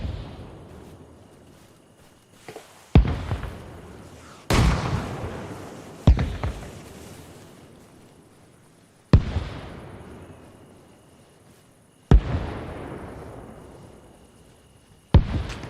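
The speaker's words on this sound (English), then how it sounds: "Yeah, we're taking heavy fire." Heavy gunfire and explosions in Arma Reforger: a series of sharp, loud blasts every couple of seconds, each followed by a long decaying rumble, with sporadic distant shots between.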